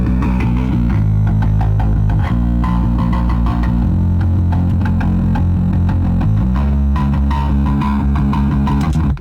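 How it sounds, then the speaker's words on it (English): Bass guitar run through a Chop Shop and distortion pedals, a loud, continuous gritty riff with heavy low end and buzzing upper harmonics, played alone without talk. "I'm again now sending it to the Chop Shop and then the distortion pedals"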